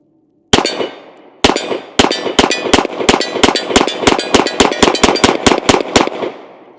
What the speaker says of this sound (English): Let's go ahead and shoot one in double action.